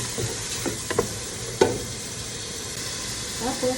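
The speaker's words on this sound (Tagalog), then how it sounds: "So, haluin natin" A rice cake mixture stirred while frying in a pan, with steady sizzling throughout and a few scraping stir knocks from a utensil.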